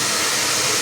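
A blow dryer roars steadily on a chicken, a continuous, close, loud broadband rush of air with no pauses across the short moment.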